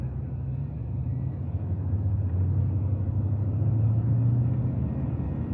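A vehicle with screwed-in tires drives out through snow after a blizzard, giving a steady low engine rumble and road noise that swells slightly as it moves off, with no talking.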